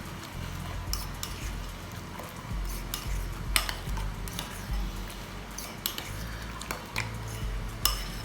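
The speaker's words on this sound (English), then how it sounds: "give that a little mix round" Onion bhaji mixture with mint sauce being stirred in a bowl, giving close, light clinks and scrapes of a utensil against the bowl at an irregular pace, with a low hum underneath.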